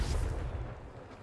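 Confringo fire spell detonates in Hogwarts Legacy, a short heavy booming blast with rumbling low end that fades quickly, no voices.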